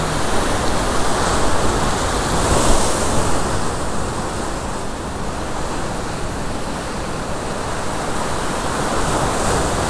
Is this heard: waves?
yes